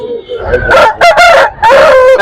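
Roosters at a rooster market crowing loudly and close by, two or three overlapping cock-a-doodle-doo calls, with faint murmuring voices beneath.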